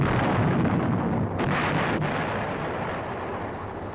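An M551 Sheridan armored reconnaissance vehicle fires its main gun, heard as a distant heavy boom within a rumbling, noisy background, with no voices.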